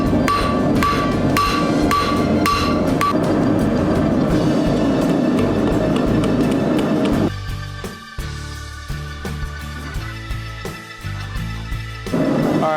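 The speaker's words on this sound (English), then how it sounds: "I mean the hammer is half on the over the anvil, half not on the anvil." Blacksmith hammer blows ring on steel over an anvil while a triangle dinner bell is forged, a dense run of loud metallic strikes that thins into spaced, lighter taps toward the end.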